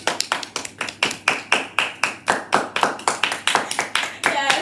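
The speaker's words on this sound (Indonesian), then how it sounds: "mari kita beri tepuk tangan kepada tamu-tamu spesial kita" A studio audience claps for special guests on a talk show, a steady run of brisk, evenly spaced claps close and fairly loud, about four per second, with no talk over it.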